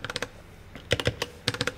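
Keys clack on a HyperX Alloy Origin Core gaming keyboard in three quick bursts of crisp, close taps separated by short pauses, with no talking.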